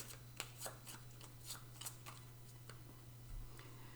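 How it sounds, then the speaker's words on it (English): Cards for the Cartographers board game being shuffled close up, a string of quick papery riffles and flicks spread over a few seconds with no talking, over a steady low hum. "Shuffle that some now and again later."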